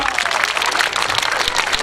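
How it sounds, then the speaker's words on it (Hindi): Vigorous audience applause at a school event on saving and educating daughters, a short, dense burst of many hands clapping close by at a steady, loud level. "उनके लिए मैं एक बार जोरदार तालियों की बौछार चाहूंगा।"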